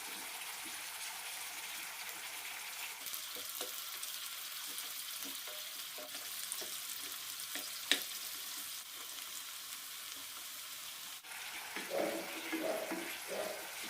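Sweet potato pieces frying in oil after being turned, a soft, steady sizzle close by with light scraping and clinking, a small sharp tick midway, and a brief murmur of voices near the end.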